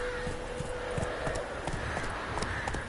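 Roach, a horse in the video game The Witcher 3, trots with steady clip-clop hoofbeats at close range, a continuous rhythmic patter over a low game ambience.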